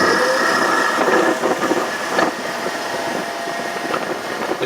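Ski-Doo Skandic 900 ACE snowmobile cruising over a lake, a loud, steady rumble of track noise over a lower engine drone, continuous and close.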